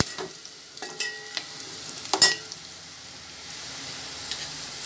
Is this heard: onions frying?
yes